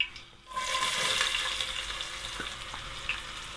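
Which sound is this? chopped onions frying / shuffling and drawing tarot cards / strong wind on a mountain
chopped onions frying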